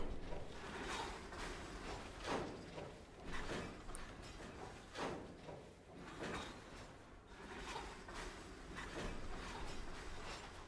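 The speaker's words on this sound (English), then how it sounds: "Sounds like the trucks are moving," Train wagons in Train Sim World 2 on the Horseshoe Curve route creak and clunk as they roll, a series of quiet, uneven knocks and rattles repeating over a low rumble, with no talking.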